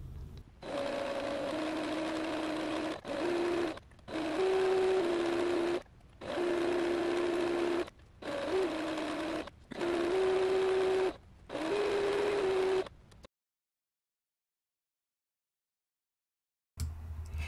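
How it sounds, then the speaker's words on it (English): Sewing machine running a basting stitch along the pinned edge of delicate fabric for a gathered summer skirt, stitching in six steady bursts with short pauses between them, then going quiet near the end. "I'm going to go ahead and pin the edges and do a basting stitch along the"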